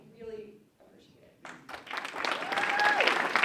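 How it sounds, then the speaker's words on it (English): Audience applause at a Citizens for Responsible Education community forum on social emotional learning, starting quietly and swelling into sustained clapping, with a voice speaking over it early on. "Big round of applause."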